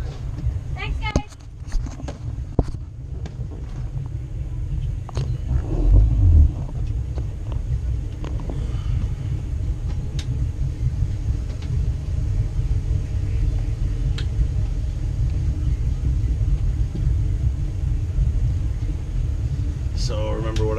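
A boat engine idles low and steady while easing into a tight slip, shifting in and out of gear with small movements; continuous close rumble with a few clunks and faint background voices.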